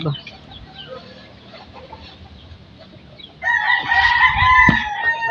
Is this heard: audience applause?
no